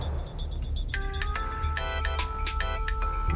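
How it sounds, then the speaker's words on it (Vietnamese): A mobile phone ringtone chimes in a repeating melodic pattern of bright electronic tones, steady and fairly loud across the stretch, with a low background hum and no talk. "Là điện thoại của giám sát công trình."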